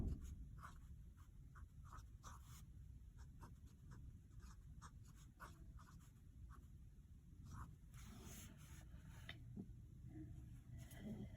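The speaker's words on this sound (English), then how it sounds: "So first, again, I'm going to write them out." A pen or pencil writes on paper while working out an algebra problem on finding intercepts, a soft, faint, continuous scratching with short strokes and taps, no talking.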